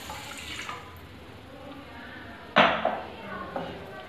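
Water poured into a pot with sugar for syrup while making rasmalai, a brief splashing pour with clinks of a bowl against the pot, fairly close in a quiet kitchen.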